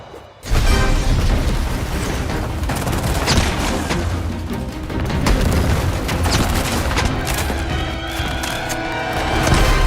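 Dense gunfire and booming explosions from the Highguard shooter video game fill the whole stretch in a continuous, loud, chaotic barrage of shots and blasts.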